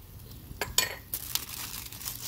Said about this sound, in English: We're going to put our garlic in foil here.